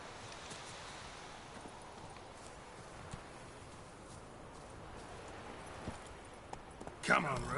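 In The Witcher 3 video game, Geralt's horse Roach trots with quiet rhythmic hoofbeats under soft ambient noise, ending in a sudden louder burst of sound.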